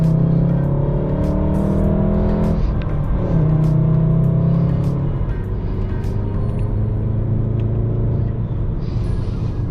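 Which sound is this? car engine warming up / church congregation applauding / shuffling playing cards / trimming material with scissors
car engine warming up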